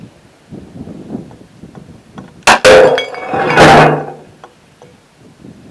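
A sharp impact followed by a loud crash of a porcelain floor tile shattering, with clinking fragments scattering for about a second before quieting.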